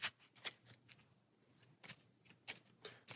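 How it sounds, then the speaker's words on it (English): Playing cards being shuffled by hand during a tabletop card game, a series of short crisp riffling bursts with brief gaps between them, fairly quiet and close. "Shuffle for another round."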